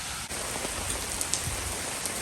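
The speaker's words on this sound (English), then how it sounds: "Right after I finished, the rain pouring down hard." Heavy rain pours down hard outdoors, a steady dense hiss of drops drumming on surfaces close by with no voices.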